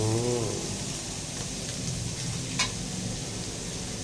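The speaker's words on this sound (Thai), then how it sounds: "ถ้าเป็นผมผมก็จะคั่วเขาให้ได้ ให้มีความเกรียมนิดๆนะครับ" Chopped preserved radish dry-roasts in a pan until lightly charred, for radish fried with egg. A dense, even hiss of sizzling fills the whole stretch, with one brief scrape partway through and no talking.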